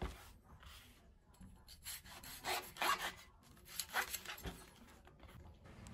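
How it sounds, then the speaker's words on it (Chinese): Chili peppers being sliced in half with a knife while preparing stir-fried chili and eggs, giving a few soft, rasping cuts that come close and at moderate level, with no talk. "首先先把辣椒清洗干净，然后把辣椒片成两半"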